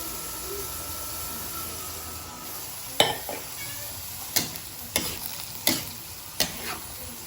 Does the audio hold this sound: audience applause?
no